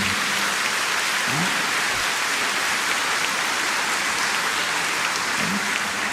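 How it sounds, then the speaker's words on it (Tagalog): Continuous applause from a large church congregation during a Catholic homily, a dense hiss-like clatter that holds evenly from start to finish. "isang mas malakas na palakpak para sa Panginoon"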